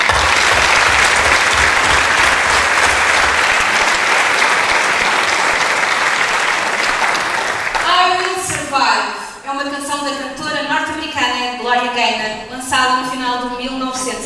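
An audience at a Sociedade Filarmónica Santo Estêvão wind band concert in Samora Correia gives sustained applause, a dense wall of clapping for several seconds, then thinning while a voice begins speaking over it.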